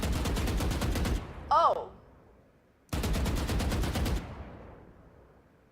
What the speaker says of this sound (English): Hold down the shoot button.